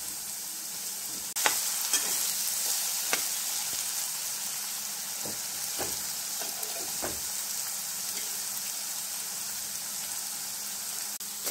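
Frying sizzle of harbhara bhaji being sautéed in a pan for gholana, a steady hiss throughout with several clanking stirs of a spoon against the pan, no talking.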